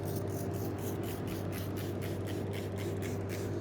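Geon tire cleaner sprayed onto the surface of a car tire, a steady hissing spray with repeated short bursts close up, running continuously without talk.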